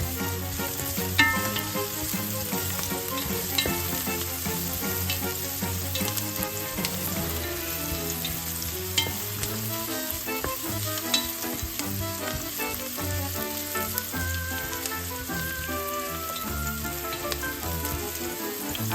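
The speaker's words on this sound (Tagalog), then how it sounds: "ilagay natin yung ating bawang." Garlic sizzles in hot oil in a pan for pork leg paksiw, a dense, even crackle that holds steady and close throughout with no voices.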